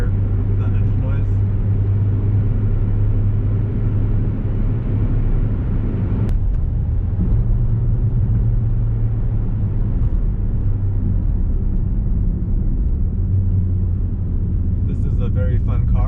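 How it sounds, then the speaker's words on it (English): Cabin drone of a modified 2010 Honda Fit cruising steadily at 65 mph around 3000 RPM, a constant low engine hum and road rumble that holds level throughout. "I'm just gonna hold it here so you can hear the engine noise."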